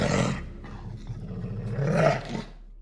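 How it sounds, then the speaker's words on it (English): A very large dog snarling and growling as it steps out of a city alley, a close, loud throaty rumble swelling at the start and again near the end, heard alone as an audio-drama effect. "an extremely large dog steps snarling from one of the alleys"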